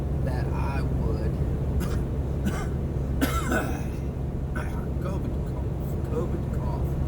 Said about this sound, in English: COVID cough.